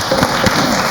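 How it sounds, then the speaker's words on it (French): A studio audience on a café-style talk show gives a brief, steady wash of applause, with no voices over it. "Applaudissements."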